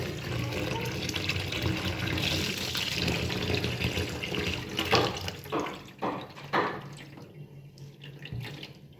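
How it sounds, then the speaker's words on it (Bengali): Clean running water from a tap splashing over banana stem pieces being washed in a sink, a continuous rush broken by uneven splashes and handling sounds, with a quieter drip toward the end. "এরপর পরিষ্কার পানি দিয়ে দুই তিনবার ধুয়ে নিতে হবে"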